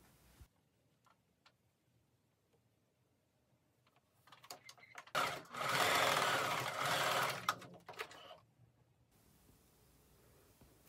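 A sewing machine stitches the centre seam of a hooded dress 1 cm from the edge with right sides facing, a steady close whirring burst of about four seconds between quieter handling sounds.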